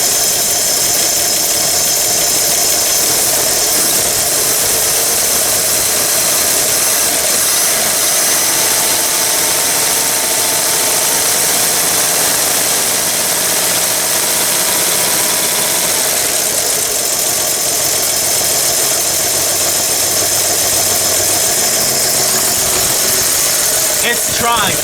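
A Chevy 235 straight-six under repair runs close by at a rough, steady idle with light revving and a faint ticking knock, droning without pause throughout.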